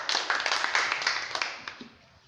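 Children at a church children's ministry session clap together, a brief burst of close, uneven claps that thins out and fades within a couple of seconds.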